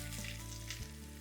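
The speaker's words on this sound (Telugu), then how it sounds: "కొంచెం కలర్ వచ్చేంత వరకు వెల్లుల్లిని వేయించుకోవాలి" Garlic, onion and green chillies frying in a pan, a steady close sizzle over a short moment.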